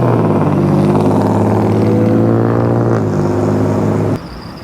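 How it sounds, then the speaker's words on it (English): An old truck drives past while its engine rumbles steadily and loudly, then cuts off abruptly near the end, heard from beside a road during an e-bike ride. "Look at that old truck going yonder."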